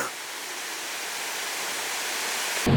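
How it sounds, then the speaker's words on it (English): Berkelah waterfall in Malaysia pours with a steady, broad hiss of falling water, constant and fairly close, ending with a brief louder bump. "Alright, so we made it to the waterfall. It is really beautiful."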